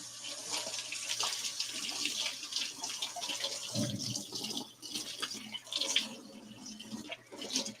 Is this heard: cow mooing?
no